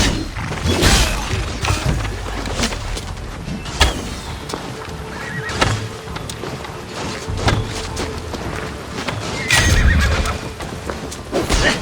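Horses neigh and gallop in the Assassin's Creed Valhalla Siege of Paris battle, while sharp crashes and booms punctuate the loud, chaotic action.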